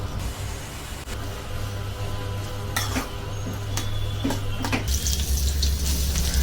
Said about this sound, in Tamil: கட் பண்ணி வச்சுருந்த 3 தக்காளி போட்டுக்கலாம். இதையும் நல்லா வதக்கிக்கோங்க.